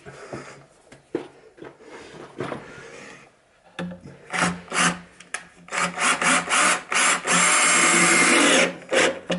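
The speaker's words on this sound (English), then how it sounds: "Cordless drill." A cordless drill whirs in several short bursts, then runs longer and louder as a screw drives into timber while fitting a floating shelf, with scraping and tapping between bursts.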